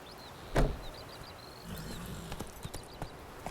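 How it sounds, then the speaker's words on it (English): Horse hooves clip-clop in The Witcher 3: Wild Hunt, a quiet uneven series of hoof knocks with one louder thump early on, over a faint ambient background. "He just has a horse on every land that he goes to that he just picks up and calls it Roach."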